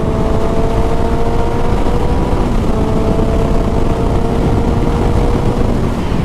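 A 2021 Suzuki GSX-S 750 motorcycle engine pulls at half throttle, giving a loud, steady droning roar with a rising mid-range hum that holds for the whole stretch.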